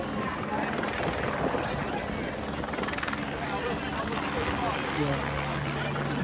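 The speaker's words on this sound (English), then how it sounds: "There's a helicopter at the top there." A helicopter's steady rotor drone fills the air overhead at the Great North Run, constant and fairly loud, with voices murmuring underneath.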